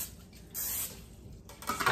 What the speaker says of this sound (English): Spray it with Pam.